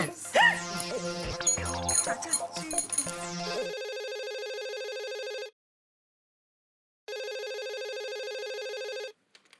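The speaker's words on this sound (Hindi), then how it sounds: "मैं कोमल भाभी को फोन करके पूछती हूँ।" A phone rings: after a few clattering noises, an electronic ringtone trills steadily, pauses briefly, then rings again, clear and close.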